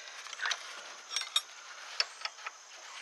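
A ratchet works on the bracket bolts during an alternator change on a Ford Taurus or Mercury Sable, giving quiet, close clicks in short irregular runs over a soft background hum, with no talking.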